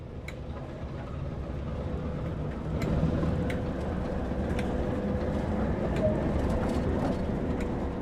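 In Train Simulator's Great Western Express, a train pulls away with a low steady engine rumble that swells slightly about a third of the way in, faint clicks and ticks scattered over it.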